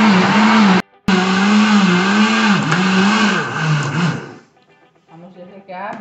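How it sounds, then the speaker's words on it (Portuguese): A household blender whirs loudly and steadily for about four seconds, blending a mix with a pinch of salt and margarine for a mozzarella recipe, with a wavering motor pitch, briefly cutting out early on, then stops and leaves faint noise. "Aí a gente vai bater no liquidificador."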